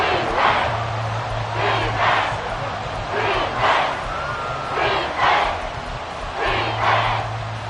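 Football stadium crowd roaring in rising swells ahead of a big third down, a broad continuous wash of cheering with a low steady drone underneath, loud and sustained through the whole stretch.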